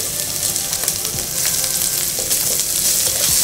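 Carrots for samosa and spring roll filling fry loudly in a hot pan, a dense continuous sizzle with occasional stirring scrapes, close up and without talk.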